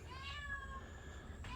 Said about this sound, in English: I found my cat.